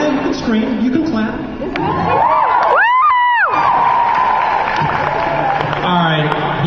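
An audience at a San Diego Comic-Con 2013 convention panel erupts in loud cheering, whoops and screams that swell and hold, with a voice over the crowd near the start.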